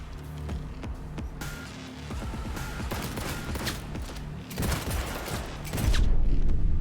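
Gunfire in the Cyberpunk 2077 video game crackles in rapid, dense bursts of close shots, stacking into heavier volleys that grow louder toward the end.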